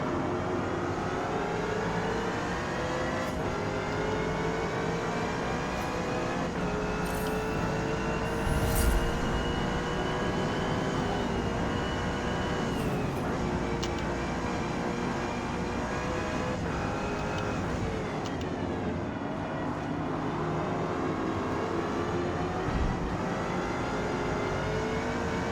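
Shelby Cobra race car engine in the Forza Motorsport game on the Nordschleife circuit, a steady loud roar with rising and falling revs and gear changes throughout, with no talking.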